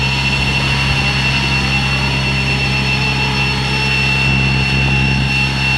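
A Flywing FW450 V3 RC helicopter flies a figure eight over grass, giving a continuous close whine from rotor and motor that holds steady throughout without pauses.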